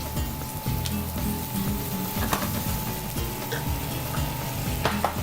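Sausages sizzle steadily in a frying pan as chopped onions and green peppers go in for spaghetti Napolitan, with a continuous close hiss broken by light stirring scrapes and taps, and no talking.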